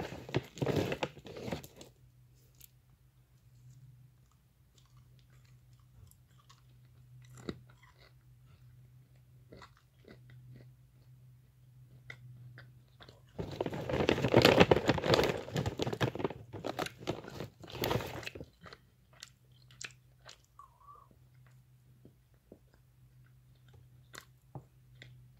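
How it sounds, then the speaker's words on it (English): Close crunching and chewing of a crisp, slightly soft salted chip, loud bites in short bursts separated by quieter pauses with a low hum. "the chip is kind of crunchy."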